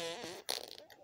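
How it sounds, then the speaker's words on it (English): A short, close fart with a buzzy, sputtering tone, followed by a brief rougher burst, alone and fairly quiet. "Dude, please stop farting."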